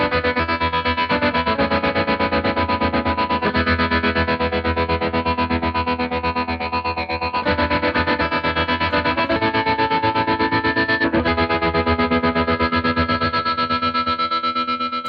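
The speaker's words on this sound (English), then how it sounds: "bring in a trem pedal and it almost sounds like a synthesizer" Electric guitar fitted with a Sustainiac pickup runs through a tremolo pedal, giving a continuous, loud, synth-like pulsing sustain with shifting chords across the whole stretch, alone without talk.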